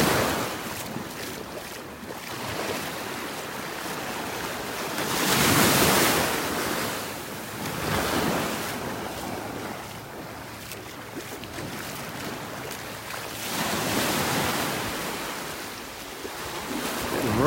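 Ocean waves surge and splash along a North Naples, Florida beach on a rough, windy morning, loud repeated swells rising and falling close by with wind buffeting the microphone.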